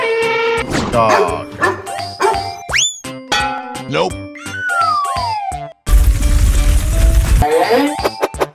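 Cartoon dog barks and yips in a playful animal-transformation animation, several short sharp barks mixed with boing and slide-whistle effects over bouncy music, loud and close throughout.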